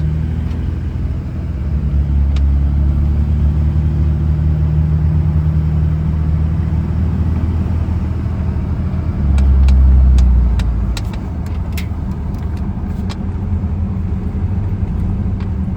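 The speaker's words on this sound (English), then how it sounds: "let's go on a quick little test drive for y'all. See how it drives." A 2003 Dodge Ram with a Cummins diesel engine drives along, its low, steady rumble heard from inside the cab, swelling briefly as it accelerates, with a few faint clicks and rattles.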